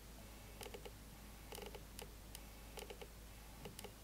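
Quiet, repeated mechanical clicking in short clusters over a steady low hum from a 35mm f/1.4 camera lens autofocus motor ticking as it adjusts.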